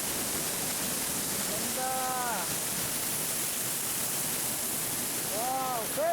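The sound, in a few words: waterfall at Storseter, Geiranger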